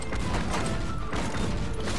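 Repeated cannon fire in the video game Tower Wars, a dense, continuous barrage of booming blasts and clattering mechanical noise that stays loud for the whole stretch.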